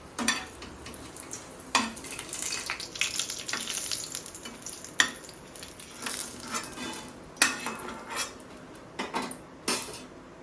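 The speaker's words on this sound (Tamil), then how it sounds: "எண்ணெய் ஊற்றிட்டு அதில் வந்து பொன்னிறமாக இந்த காஞ்ச மிளகாயை அப்படியே வறுத்துக்கணும்" Dried red chillies fry gently in oil in a pan, a soft, steady sizzle broken by repeated scraping and clinking of a metal spoon against the pan.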